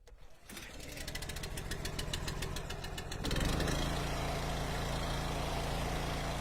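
A small gasoline engine with its choke on sputters through rapid uneven firing pulses, then catches and settles into a steady, even idle, heard close with no talking.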